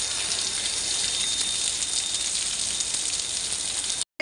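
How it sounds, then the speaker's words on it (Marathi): Heavy rain pours down in a dense, steady hiss, continuous and fairly close, cutting off abruptly at the very end. "हा बघा पाऊस आमच्या इकडे किती सारा आहे"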